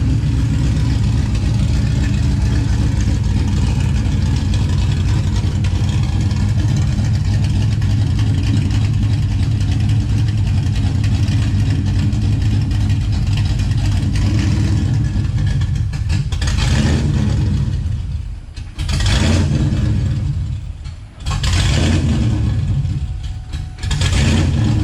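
A nitrous-injected New Edge Mustang engine with its exhaust cutouts open holds a loud, rough, throbbing idle, then gives several sharp revs that rise and drop near the end.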